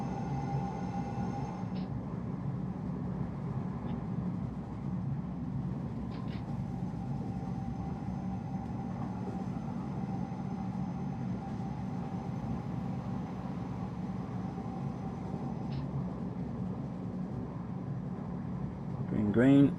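Hamburg S-Bahn BR474Plus electric train in Train Simulator, a steady rumbling run with a faint whine and occasional tones, continuous throughout, a brief louder burst at the end.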